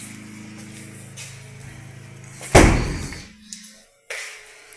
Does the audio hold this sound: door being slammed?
yes